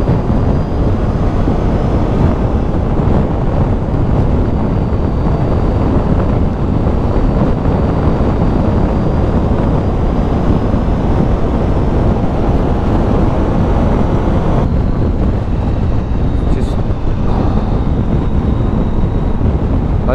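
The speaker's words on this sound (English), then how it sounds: "Starting to get a bit windy" Strong wind on the Isle of Skye buffets the microphone in a constant, heavy rumble and roar, with gusts rising and easing throughout.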